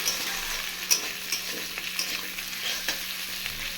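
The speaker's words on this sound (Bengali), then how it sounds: "এটা ভাজতে দেবো, মাঝে মাঝে নেড়ে দেবো যাতে পুড়ে না যায়।" Onion, potato and taro sizzling in oil in a pan while being stirred, a steady close frying hiss broken by occasional scraping clicks of the spoon, with no voices.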